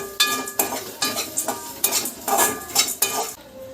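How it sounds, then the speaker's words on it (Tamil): Grated coconut frying in oil in a pan, stirred briskly with a metal utensil, gives a rapid series of close scraping clanks against the pan over a light sizzle. "இதை வந்து அந்த எண்ணெயில் போட்டு நம்ம நல்லா ஃப்ரை பண்ணிக்கலாம்."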